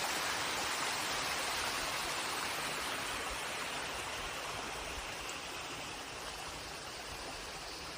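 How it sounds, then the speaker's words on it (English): A small waterfall pours at the top of a water drainage on a hiking trail, giving a steady, full rushing hiss of falling water that stays constant and fairly close throughout, with no voices. "This is the fall at the top of that water drainage that Lexi and I found earlier on our hike."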